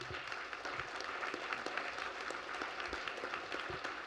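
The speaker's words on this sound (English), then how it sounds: "So I want to give Brian a big round of applause." Faint steady applause from an audience at a school board meeting, soft continuous clapping heard at a distance with no talk.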